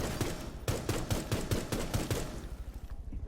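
Rapid gunfire in Rainbow Six Siege on the Border map, shots punching through a destructible screen: about a dozen sharp, evenly spaced cracks in quick succession, loud and close, then a short fading tail.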